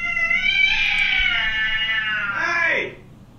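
A cat lets out a long, drawn-out, wavering meow while facing its reflection, loud and close, with a shorter falling tail at the end.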